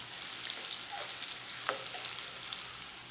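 Butter melting in a hot wok, sizzling and crackling softly at a steady level, with a few light scrapes as it is pushed around, near and unaccompanied by talk.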